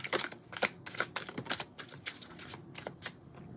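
Tarot cards being shuffled by hand: a quick, quiet run of crisp riffling clicks and soft flutters, close up, with no talking.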